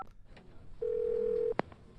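A telephone in the video game Phantasmagoria: A Puzzle of Flesh dials an extension: a steady electronic tone holds for under a second, then a short sharp beep follows. The sound is clear and close, with no voices.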